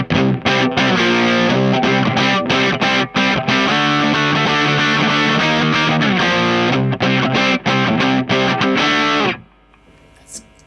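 A guitar with P90 pickups, driven through a Boss FZ-1w Waza Craft fuzz pedal, plays a loud, dense, mid-forward fuzzy rock riff with choppy rhythmic strums, then cuts off abruptly into near-silence.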